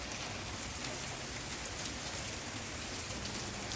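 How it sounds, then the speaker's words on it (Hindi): Steady rain falling outdoors, a dense, even hiss that stays constant and close throughout with no voices. "बड़ी ही ज़्यादा प्यारी सी जो है वो बारिश स्टार्ट हो गई थी"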